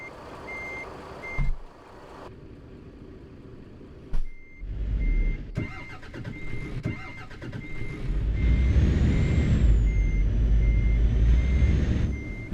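A heavy truck in Euro Truck Simulator 2, stuck on a tight route, revs its engine hard, the rumble rising and holding loud beside steady reversing beeps and a few sharp knocks.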